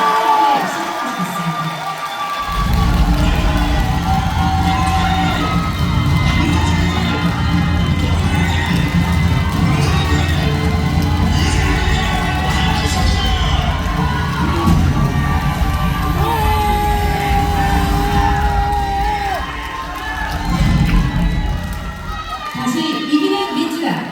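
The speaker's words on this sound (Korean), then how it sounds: "뜨거운 박수와 함성으로 마지막까지 성원해 주시길 부탁드리겠습니다" Crowd cheering and applauding at a party leadership and supreme council joint campaign rally in a convention hall in Chungbuk, a loud sustained roar of shouts and clapping that swells and fades near the end.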